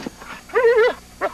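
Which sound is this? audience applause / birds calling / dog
dog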